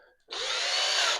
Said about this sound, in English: The first thing we're going to do is drill a hole